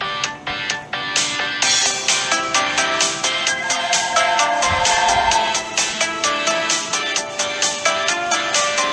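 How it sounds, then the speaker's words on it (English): A phone ringtone plays in the story game Choices: The Freshman, a repeating electronic melody that pulses steadily for several seconds over soft game background music, with no talk. "do not worry about that phone"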